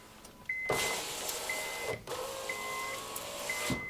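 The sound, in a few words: Honda car power window motor running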